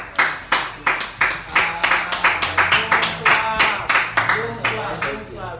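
An audience claps in rhythmic unison, a series of sharp regular beats close by, with voices partly mixed in.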